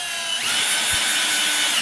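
A power drill spins a bit on a workbench during .223 brass prep, a loud, high whirring whine that rises in pitch as it spins up and then holds steady, close to the mic.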